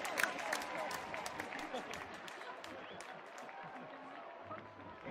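Concert crowd at a show in Berlin clapping and cheering steadily through the whole stretch, dense broadband applause with scattered shouts, loud and close.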